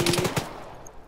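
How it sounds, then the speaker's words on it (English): Automatic gunfire in the Arma video game: a rapid burst of several loud, close shots in quick rhythm that fades into a ringing tail. "we're getting shot at"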